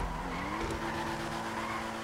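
Tires of a Dewbauchee Specter sports car skid continuously through corners in a video game, a steady squeal riding over a constant engine drone, close and fairly loud with no talking.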